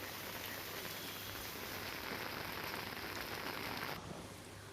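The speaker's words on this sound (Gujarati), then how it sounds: "શહેર તથા ગ્રામ્ય વિસ્તારોમાં ગાજવીજ સાથે મુશળધાર વરસાદ ખાબકતા આખો વિસ્તાર તાજગીથી ભીંજાઈ ગયો" Heavy monsoon downpour in Gujarat, a dense steady hiss of rain pounding surfaces up close, easing slightly in the final moment, with no voices.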